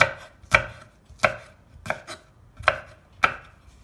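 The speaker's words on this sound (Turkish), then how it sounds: "Evet bu şekilde doğrayacağım biberlerimi." A knife chops a mix of hot and sweet peppers on a board, landing six sharp, evenly spaced strokes close up with quiet pauses between them and no talk.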